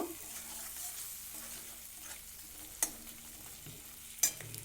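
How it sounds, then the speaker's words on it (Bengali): Pointed gourd masala with ginger sautés quietly in a pan under a soft, continuous sizzle, broken by two sharp, close spatula scrapes near the end. "এবার সব কিছু ভালো করে আরও একবার কষিয়ে নেব"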